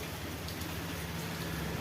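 Rain falling steadily, a soft continuous patter with a faint low hum beneath, fairly quiet and without any voices.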